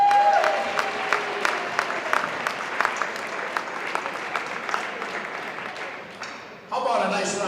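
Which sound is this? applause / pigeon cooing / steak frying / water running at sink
applause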